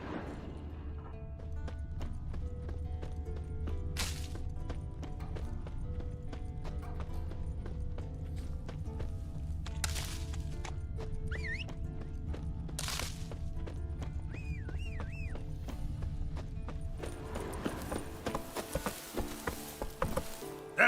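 Geralt's horse Roach trots in The Witcher 3: Wild Hunt, with steady clip-clopping hooves throughout, a few faint whinny-like tones and quiet game ambience.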